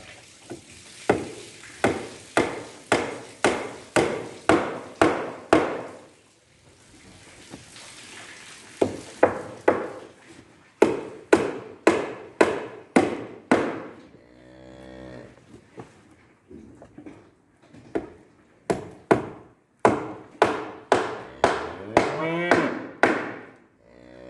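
Sharp, rhythmic hammer blows drive nails into a board beside cattle in a barn, coming in several bursts of close thwacks separated by pauses, with a cow mooing in between and again near the end.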